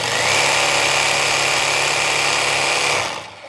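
Festool PSBC 420 cordless jigsaw running steadily at a loud, even whine for about three seconds after its slide switch is pushed, then winding down to quiet.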